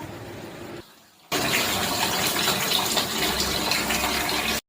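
A kitchen tap gushes loudly and steadily for washing after a brief quiet gap, the running water continuing without pause to the end.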